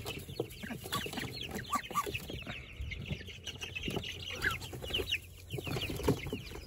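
Hens and young chicks cluck and cheep continuously in a backyard coop, a busy, close overlapping chorus of short calls with scratching and rustling underneath.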